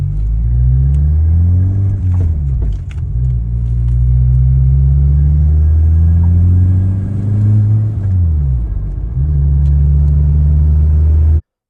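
A Volkswagen Jetta wagon with a rough idle, a fluctuating boost gauge and popping runs close and loud; its low engine tone rises and falls in uneven swells for about eleven seconds before cutting off abruptly.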